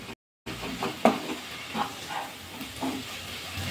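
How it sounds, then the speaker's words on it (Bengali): Red amaranth greens being stirred in a pan, a soft steady sizzle and hiss with a few light scraping clinks, fairly quiet after a brief silent moment at the start. "দেখুন কতটা কমে গেছে লাল শাকটা, একটু নাড়াচাড়া করে নেব।"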